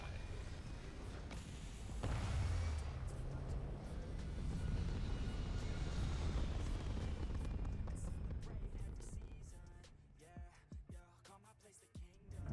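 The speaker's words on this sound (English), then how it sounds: "Liftoff initiated, Cap. Time to venture into that beautiful sky." Spaceship liftoff in Starfield, a swelling deep engine roar that builds to a loud sustained thrust, then fades into quieter scattered mechanical clicks and thumps as the ship reaches orbit.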